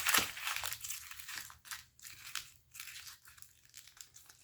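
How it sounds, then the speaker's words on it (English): Paper is crumpled by hand up close, giving dense crinkling and crackling bursts in an irregular rhythm with short pauses, and no voices. "crumple your paper."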